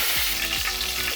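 Cumin seeds and curry leaves sizzle in hot oil for egg fried rice, a steady loud crackling fry with a few stirring scrapes and no voices.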